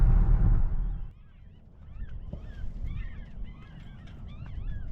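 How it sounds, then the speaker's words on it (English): Outdoors, birds chirp and twitter in repeated short calls with a goose-like honk among them, moderately distant, after a loud low rumble that fades out during the first second. "So I can hear plenty of birds out here."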